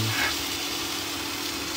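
Salmon pieces dropped into a pan of hot garlic-scented oil give a steady, close broadband sizzle that holds evenly throughout with no voices.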